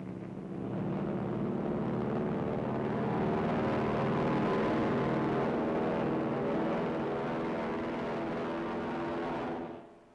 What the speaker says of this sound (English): The first planes take off at dawn.